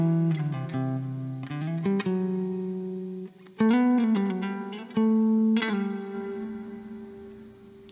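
Melody in the Lydian mode on an effects-laden instrument, sustained notes stepping through the scale with shimmering chorus and distortion, several phrases separated by brief gaps and fading tails.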